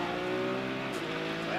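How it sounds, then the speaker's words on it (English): IndyCar race car on the back straightaway of the Toronto street circuit, 2014 Honda Indy race, engine note climbing through the gears in loud, steady rising pitch sweeps, with a commentator's voice faintly beneath. "Going up through the gears on the back straightaway."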